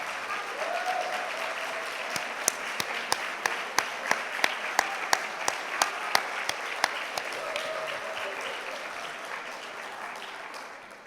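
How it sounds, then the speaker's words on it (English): A conference audience applauds steadily throughout, with several sharper, louder claps standing out in the middle of the sustained clapping. "please stand up so we can give you a round of applause"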